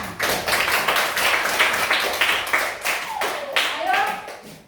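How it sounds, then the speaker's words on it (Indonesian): A classroom group claps after a student group presentation, a dense burst of many hands slapping steadily for several seconds, close and fairly loud, with children's voices chattering underneath. "Tepuk tangan."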